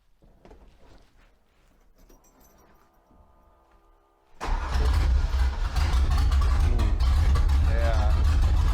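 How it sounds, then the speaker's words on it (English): A Ford Ranger with a swapped 302 V8 cold-starts: a few faint cranking sounds, then the engine catches abruptly and settles into a loud, steady, rumbling idle. "this will be a true cold start test here"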